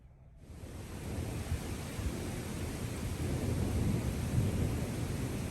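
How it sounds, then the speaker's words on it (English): Thunderstorm rain pours down in a dense, steady hiss with a low rumbling undertone of thunder, building gradually from near silence to a full, sustained wash. "Sure enough, the thunderstorm has rolled in."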